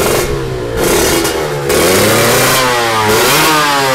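A blue-and-white KR racing motorcycle in a drag race revs hard, its engine rising and falling in loud, close, repeated bursts of throttle.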